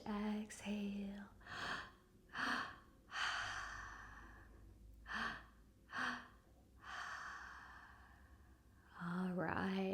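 Deep breaths in and out during a guided relaxation exercise, a series of audible inhales and long exhales, some sharp and gasping, others slow sighs, with a soft voice speaking between them.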